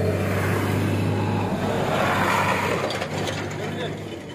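A Punjab-model paddy threshing machine with an attached gearbox runs steadily, a loud continuous mechanical whir with a low hum that drops out partway, constant throughout.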